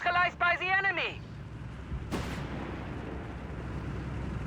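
Cannon artillery fire from the 20-4 guns in the strategy video game Company of Heroes 3, with one sharp, loud blast and a rumbling tail. Just before it comes a short stretch of tonal, voice-like game sound and a low ongoing background rumble.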